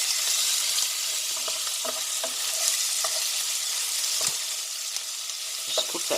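Garlic, pepper and Italian herbs stirred in a pan over high heat give a steady, close hiss of frying with scattered soft scrapes and clicks from the stirring utensil.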